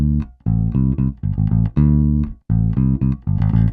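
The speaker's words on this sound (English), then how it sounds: "we want to do a bass line which sits underneath the root note." An electric bass plays a Latin rock line pitched beneath the root note, distinct plucked notes in a syncopated rhythm with short gaps, clear and close with nothing else playing.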